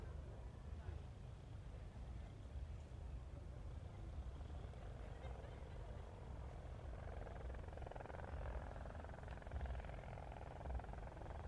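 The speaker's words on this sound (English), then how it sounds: "The rest of the helicopters are approaching to perform a synchronized movement hovering out of ground effect" Several helicopters approach and hover together in a synchronized display at the RAF Waddington Airshow 2014, a faint distant rotor and engine drone running steadily beneath a talking voice.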